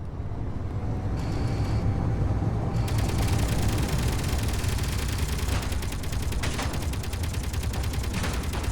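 Ship-mounted weapons in the Space Engineers game fire in loud, rapid, continuous bursts, a close, dense rattle of shots that builds and carries on to the end.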